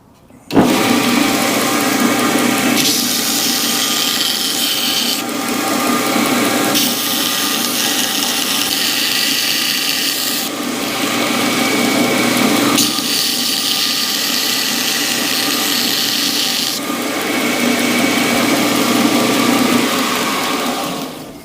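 A belt sander grinding and rounding the top of a handmade metal spur, a loud, steady whirring abrasion that continues unbroken, its tone shifting slightly each time the piece is pressed and repositioned against the belt.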